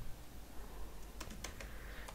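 Code is typed on a computer keyboard as a few quick, faint key clicks in a short cluster, close by in a quiet room.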